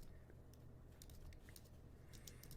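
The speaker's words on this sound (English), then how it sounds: "I'm going to type in Labor Day" Someone types quickly on a computer keyboard, producing soft, close clicks in irregular bursts over quiet room noise, with no speech.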